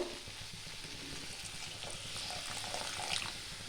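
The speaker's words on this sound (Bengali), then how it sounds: "এইটা আবার আমি জল দিয়ে দেবো।" Water being poured into a pan of frying butter chicken: soft, steady splashing and liquid hiss, faint and continuous, with gentle sizzling underneath.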